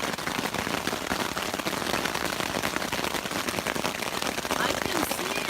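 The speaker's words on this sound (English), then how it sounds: "it must be hail" Hail pelting down hard during a John Muir Trail camping trip, a dense, steady clatter of pellets striking surfaces all around, with people talking over the din.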